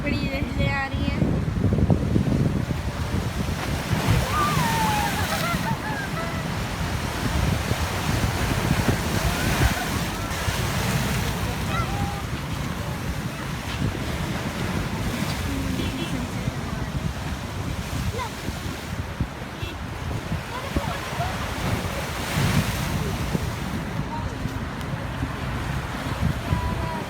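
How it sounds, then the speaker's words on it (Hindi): Large sea waves break on the shore at a beach in Jeddah, heard as a continuous roaring surf with rolling swells under gusty wind noise on the microphone. "बड़ी बड़ी लहरें आ रही हैं।"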